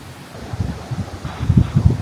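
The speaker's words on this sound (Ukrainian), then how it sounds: "через сильний вітер ускладнюються погодні умови" Strong wind buffets the microphone in uneven low rumbling gusts that grow heavier toward the end, with no voices.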